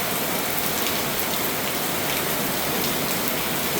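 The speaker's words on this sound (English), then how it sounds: "The rain is coming down." Heavy rain falls at night outside a condo, a dense, constant hiss of drops striking surfaces at close range with no pauses and no talking.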